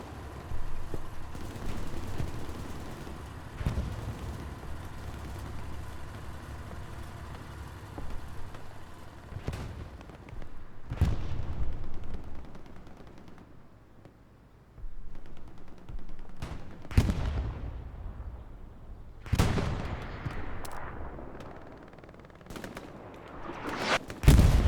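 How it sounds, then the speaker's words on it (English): Artillery and gunfire in the WWII shooter Hell Let Loose on the Omaha Beach map: scattered machine-gun bursts and rifle shots with several heavy booming impacts, some near and sharp, others distant. "Artillery shifting down here to the south."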